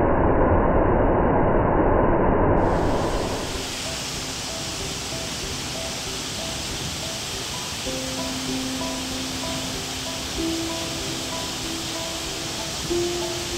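Rushing water at Hundru waterfall near Ranchi, a loud steady roar that cuts off after a few seconds, leaving a quieter broadband wash with faint tonal hum over it.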